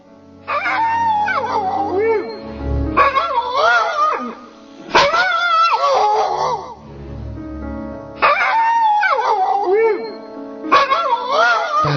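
A dog's howls and whimpering cries come in repeated drawn-out bursts with short gaps between them, loud and close. The cries rise and fall in pitch and are heard alone with no talk over them.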